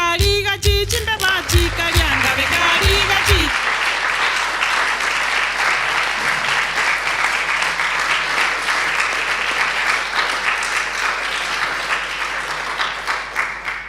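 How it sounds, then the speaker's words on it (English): A room full of listeners breaks into sustained applause for Jane Abuchi. The clapping is dense and even and runs throughout, with a few seconds of tonal music and voices at the start. "As they sign off, can you join me in applauding Jane Abuchi?"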